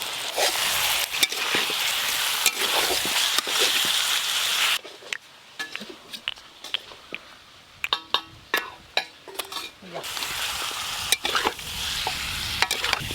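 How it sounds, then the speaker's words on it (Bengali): Chicken curry with ground spices and chopped tomato is stirred in a hot pan, loud continuous sizzling broken by a quieter stretch of scraping spoon strokes, then the sizzle returns; no one speaks. "এইভাবে নাড়তে নাড়তেই মাংস কষা হয়ে যাবে"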